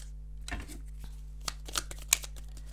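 A tarot card drawn from a deck and handled, giving a few soft, close card slides and flicks with brief crisp snaps over a quiet room hum, no talking.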